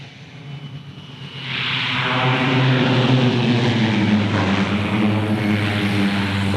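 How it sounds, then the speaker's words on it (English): A bush plane's propeller engine drones loudly and steadily as it comes in for an off-field landing, the sound swelling after the first second and holding strong throughout, with no talking. "Draco is on final. First off-field landing since all this stuff."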